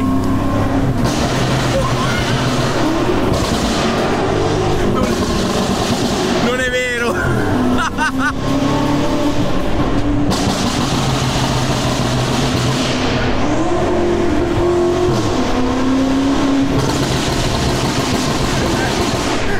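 An 820 hp BMW M5 Competition drives hard: its engine and exhaust roar continuously and loudly from inside the cabin, with gear shifts changing the pitch. People talk and laugh over it.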